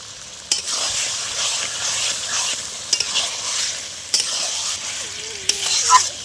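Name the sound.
chicken being stirred and fried in spiced oil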